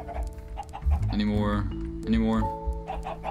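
Chickens clucking beside their coop in the Minecraft video game, a few short clucks heard up close while a person talks over them.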